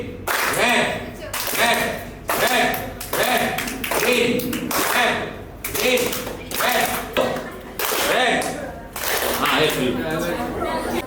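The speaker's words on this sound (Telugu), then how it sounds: "ఎవరో క్లాప్ కొట్టారు." Sharp claps repeat in a steady rhythm about every half second at a lively children's Bible school event indoors, sounding close and loud over constant crowd chatter and voices.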